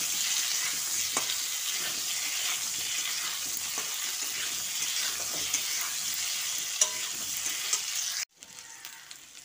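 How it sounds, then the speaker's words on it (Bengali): Potato pieces with salt and turmeric frying in oil, making a continuous bright sizzle with light stirring taps. Near the end the sizzle abruptly drops to a quieter hiss. "আলুতে সামান্য একটু নুন আর একটু হলুদ দিয়ে দিচ্ছি। এবার একটু হালকা করে ভেজে নেব।"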